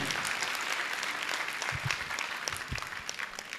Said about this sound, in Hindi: बजाइए अच्छी ताली।